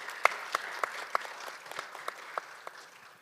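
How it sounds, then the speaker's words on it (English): Audience applause at an international judicial policy conference, scattered claps from a modest crowd fading over a few seconds, with no voices. "Please give Ms. Kuntz big and warm applause."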